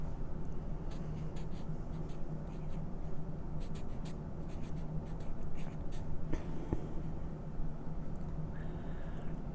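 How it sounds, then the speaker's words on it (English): A Sharpie marker writing a name on paper, short squeaky strokes in quick clusters over a steady low room hum, close and fairly quiet with no talk. "I need for you to very, very neatly at the top where it says name,"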